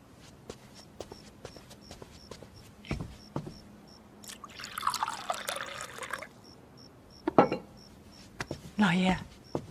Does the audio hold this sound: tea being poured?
yes